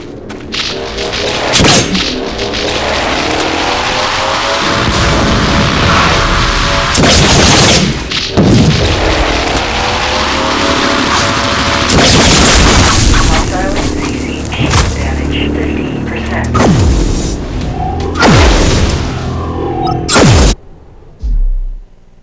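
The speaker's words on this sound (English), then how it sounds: "Null cannon targeting hostile MCC." A null cannon in the game Dust 514 fires on an enemy MCC, delivering repeated heavy booms and sharp cracks over a loud, continuous battle roar, with game voice announcements mixed in.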